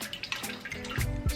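Water is poured into a pot over a fire to start a seafood boil with herbs, a short, soft, close stream with light splashing that grows slightly fuller at the end.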